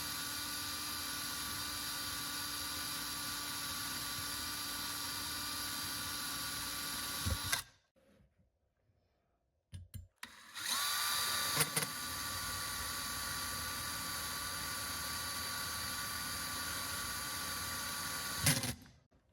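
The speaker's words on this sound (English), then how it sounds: "now I'm gonna use the pilot holes that I had in the bracket originally to drill" A power drill whines steadily for several seconds, stops briefly, then runs again in a long continuous buzz, close and loud, drilling holes through a metal RV stove burner.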